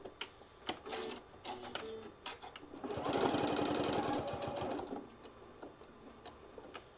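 A sewing machine top stitching with a G foot runs in a steady, rapid mechanical stitching burst for about two seconds, close and fairly loud, with quieter ticks and handling clicks before and after.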